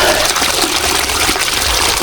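Water gushes steadily from a hose or pipe while fruit trees in an open area are watered, a loud close continuous rush with no pauses.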